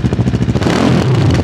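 Bristol Bobber 700 motorcycle on its stock muffler, idling with a rapid, lumpy pulse close by, then blipped into a short, loud rev that settles into a rough, throbbing drone.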